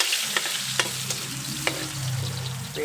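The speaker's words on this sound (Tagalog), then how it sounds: "maglagay natin itong bawang. So napakainit na nitong ating kawali." Garlic frying in a very hot pan gives a steady sizzle, with a few sharp clicks and scrapes of a utensil stirring through it; no one speaks.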